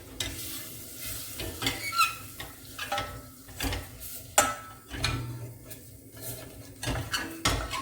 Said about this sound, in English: I'm going to put quite a level dessert spoon of flour into there because it needs to be worked in ASAP quickly.